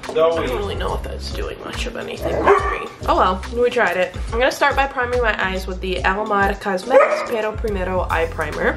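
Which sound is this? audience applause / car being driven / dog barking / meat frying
dog barking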